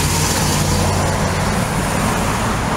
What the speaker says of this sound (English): And cars are flying by.